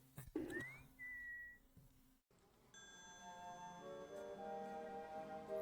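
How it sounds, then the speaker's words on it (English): A short rising whistle in the video game Ex Nihilo: Vermis Malum, followed by a held whistled tone, faint and electronic-sounding, then a soft musical drone continues. "And that whistle again."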